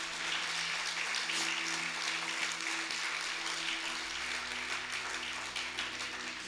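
A church congregation claps in praise with dense, sustained applause throughout, a continuous loud patter with a low hum underneath and no speech.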